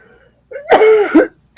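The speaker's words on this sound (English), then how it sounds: "But I'm already starting to cough" A single harsh cough burst, close and fairly loud, followed by a brief breathy onset at the end; no talking.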